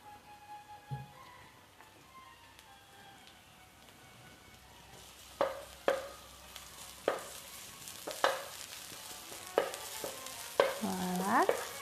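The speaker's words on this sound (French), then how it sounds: "je veux faire cuire l'ail et piment au début." Garlic and chili sizzle softly in a pan for a Thai fusion shrimp and basil pasta, then a utensil scrapes and stirs in repeated sharp strokes, each followed by a brief hiss of frying, close and clear.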